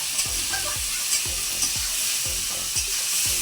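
Ingredients stirred and fried in a pan with a steady sizzle, broken every half second or so by the scrape of a spoon moving through them, close and even throughout with no talking.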